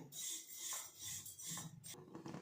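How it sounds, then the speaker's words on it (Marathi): Urad dal roasting in a pan while being stirred continuously, giving soft rhythmic scraping and rasping sweeps of a spoon against the pan, close and fairly quiet. "सतत त्याला अशा अशा प्रकारे ढवळत राहायचं आहे"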